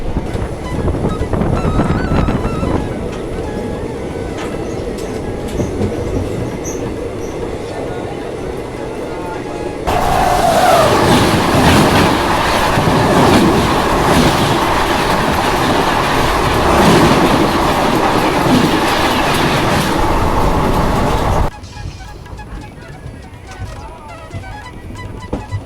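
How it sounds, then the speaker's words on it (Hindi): Sleeper class coaches of the Mahamana Express rumble along behind a diesel locomotive, a steady loud rolling roar with wheel clatter and wind buffeting that swells midway, then drops back to a quieter ride. "अभी हम चल रहे हैं डीजल लोकोमोटिव के साथ।"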